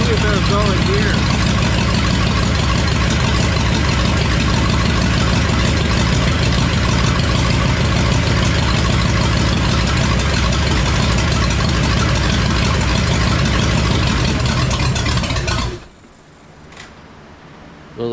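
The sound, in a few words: Ford F-100 swapped V8 engine running in gear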